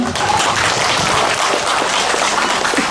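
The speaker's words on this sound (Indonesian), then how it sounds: "Tepuk tangan untuk Pak Komang" Applause for Pak Komang at a Central Lampung social services event for Elderly Day, a dense, steady wash of many hands clapping throughout with no clear voice above it.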